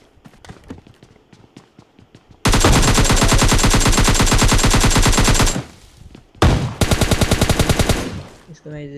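Shotgun and rapid gunfire in an online battle royale shooter erupts as long loud bursts of rapid shots, pauses briefly, then resumes in a second volley, with footsteps and faint clatter before it.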